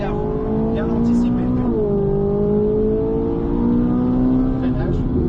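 On a race track, a car's engine drones close by as it slows under braking, then shifts pitch and climbs again as it accelerates through a right-left sequence. A voice runs over the engine.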